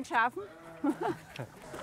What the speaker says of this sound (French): Les brebis nous souhaitent la bienvenue.